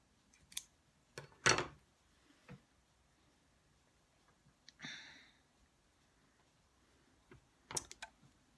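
A few crisp scissor snips trimming the sewn-on feather of a handmade catnip fish toy, separated by pauses and soft handling clicks in a quiet room.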